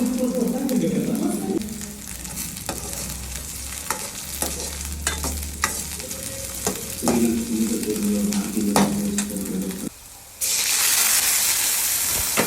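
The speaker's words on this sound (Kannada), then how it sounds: "ಚಿಲ್ಲಿ ಆದಮೇಲೆ ಬೆಳ್ಳುಳ್ಳಿ, ಗಾರ್ಲಿಕ್ ಹಾಕಿ ಫ್ರೈ ಮಾಡಬೇಕು." Garlic frying in hot oil for a palak tomato curry: a constant near sizzle broken by clicking stirs and scrapes, with low hum in places and a louder hissing burst near the end.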